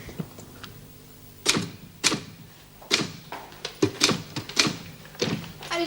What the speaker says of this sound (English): I didn't know you typed.